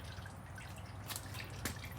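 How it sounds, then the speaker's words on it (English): Coolant drips and trickles from a Polaris RZR 800 engine's cylinder head during a top-end teardown, a few faint separate drops over a steady low hum in a workshop. "this is going to drain all the coolant out of the cylinder head and the jug down to this point"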